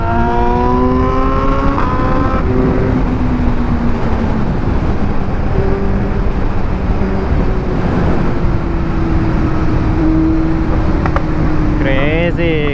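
Sport motorcycles, a BMW and a Kawasaki Z900, rev hard and accelerate in a street drag race. Engine notes climb in rising sweeps, then hold a loud steady drone with further revving near the end, and voices can be heard under the noise.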